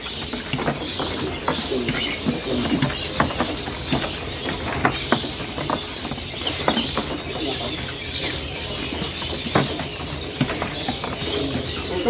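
Caged songbirds at a bird seller's stall chirp and call continuously, with many overlapping bright calls close by over a steady background hum.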